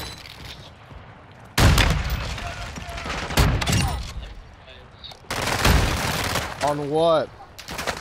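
Bursts of gunfire in the shooter game Call of Duty, a few loud volleys separated by quieter gaps, with someone speaking briefly between shots.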